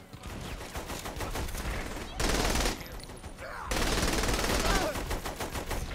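Rapid bursts of automatic gunfire in Saints Row The Third Remastered during a gang war, dense and continuous, with sustained volleys pounding through the whole stretch and a heavier loud surge near the middle.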